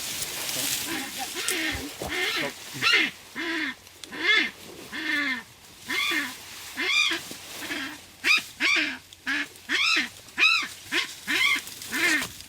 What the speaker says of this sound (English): that's the sound of a very unimpressed kākāpō skrarking its disapproval at being caught